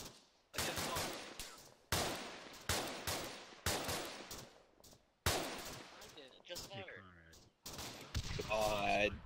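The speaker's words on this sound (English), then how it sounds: "I got so much gunfire going past my head" Gunfire in the co-op military shooter Arma 3: repeated loud bursts of automatic rifle fire and sharp shots in clustered volleys, some close and some farther off, with brief radio-style voices and shouting in between.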